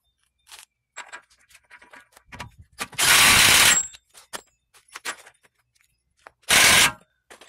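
Ratchet tightening the axle nut on a 2013 Mini Cooper Countryman during a driver side CV axle replacement, two loud bursts of rapid clicking with scattered metallic tool clinks between them, close and alone.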